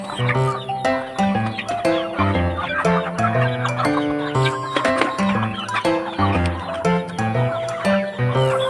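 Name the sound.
native chickens clucking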